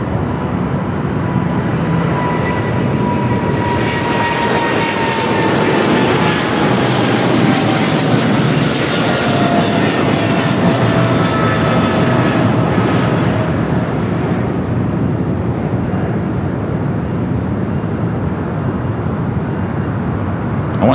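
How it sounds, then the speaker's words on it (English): An AirLogic Boeing 777 freighter departs LAX, its jet engines building into a loud, sustained roar with rising and falling whine tones that swell and then hold steady for about twenty seconds. "We got Airlogic Box 777 freighter heading Leipzig"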